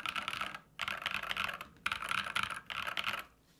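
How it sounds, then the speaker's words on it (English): Close, crisp clicks of typing on a computer keyboard fitted with keycaps made from cat hair, coming in quick bursts separated by short pauses, with a slightly hollow tone. "it's just a different typing sound. It feels a little hollow."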